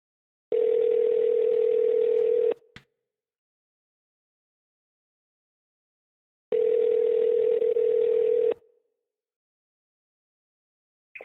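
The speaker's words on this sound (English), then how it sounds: "We're gonna call up Chris and get him on the phone" A telephone ringing tone while calling a podcast guest, two steady buzzing rings about two seconds long with a few seconds of silence between, loud and clean, no voices.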